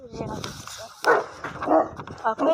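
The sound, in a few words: dog barking at another dog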